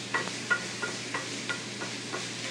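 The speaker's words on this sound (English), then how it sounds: "I'm going to add some finely minced celery and onions. And as these cook, you want to get the fond off the bottom of the pan." Finely minced celery and onions sauté in a pan with a low sizzle, and a spatula scrapes the bottom in a steady rhythm of soft knocks. No voices.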